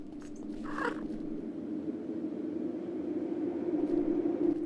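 Steady low purring from a cat in the video game Garden Variety Body Horror runs throughout, with a brief higher meow-like cry near the start, close and moderately loud.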